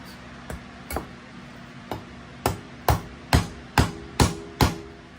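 A cleaver chops through a beef bone for stew: about ten sharp, separate thuds, irregular at first and then coming faster and louder in a steady rhythm, close by with no talking.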